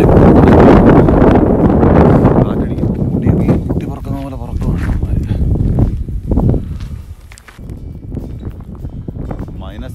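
Strong wind gusting through a midnight snowstorm with blowing snow, a loud rough roar buffeting the microphone that eases and surges again, while someone talks over it.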